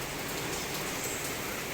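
Heavy rain falls in a dense, unbroken hiss that stays loud and even throughout, with no voices.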